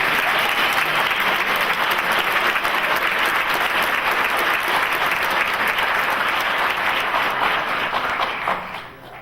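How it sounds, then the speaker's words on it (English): A large audience applauds loudly and steadily for several seconds at a Navy graduation ceremony, the clapping fading slightly at the very end. "Can you give the stage a round of applause?"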